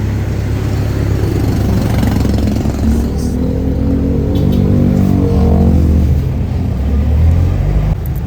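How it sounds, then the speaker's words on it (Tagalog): A jeepney's engine rumbles steadily from inside the vehicle while riding, a loud, continuous low drone with a slight rise and fall in pitch as it pulls along, and no voices. "buti na lang ako may napara na kaagad na jeep at ako nga agad din nakasakay"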